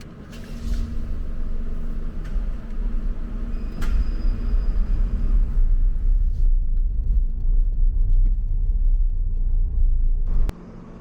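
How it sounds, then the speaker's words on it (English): A car drives into a commercial parking lot in Penang, its engine a steady low rumble heard from inside the cabin, with a few faint clicks before the noise cuts off abruptly near the end. "Go this way, and let's park here."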